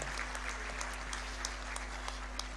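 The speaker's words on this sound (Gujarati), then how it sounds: "એકવાર ખૂબ જોરદાર તાળીઓ પ્લીઝ" Faint, distant audience applause at a light vocal music concert, a steady patter of many hands over a low electrical hum.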